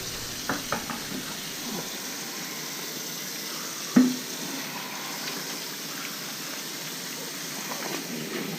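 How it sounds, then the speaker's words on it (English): Hands are washed under a running kitchen tap during pork rib prep, a steady close hiss of flowing water with a single sharp knock around the middle. "We're gonna go ahead, wash our hands, because we don't want to cross-contaminate any products."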